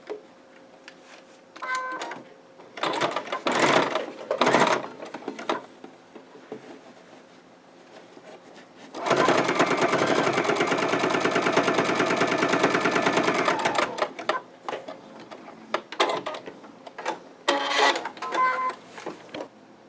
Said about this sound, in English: we're going to go ahead and sew through it